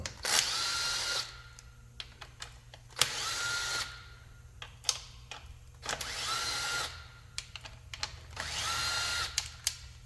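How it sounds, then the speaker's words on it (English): A quarter-inch power driver with its clutch set runs in repeated whirring bursts of about a second each, separated by short clicks and quiet gaps, loud and close with no talking. "it's coming out with my little 1/4-inch gun here"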